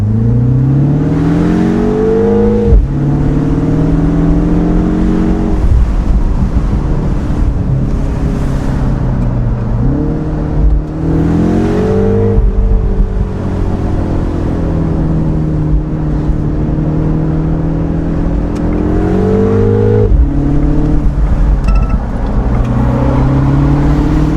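An electric MINI John Cooper Works plays an artificial engine-like hum that rises and falls in pitch as it accelerates, a synthetic drone sweeping upward repeatedly, loud and continuous.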